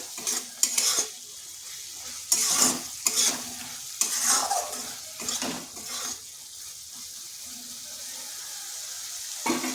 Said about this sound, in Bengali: মশলাটা এইভাবে কষে নিতে হবে।